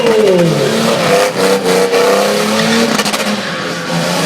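Motorcycle accelerating hard on a race track at a moto festival, loud and close, engine pitch climbing through gear changes with a continuous roaring whine.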